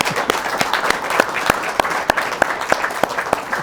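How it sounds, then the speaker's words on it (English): An audience breaks into steady applause at a Shakespeare celebration event, a dense run of clapping with sharp individual claps standing out, close and loud. "I think that deserves round of applause."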